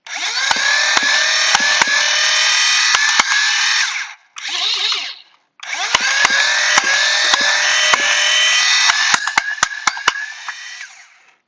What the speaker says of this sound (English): you can just hear the darts just popping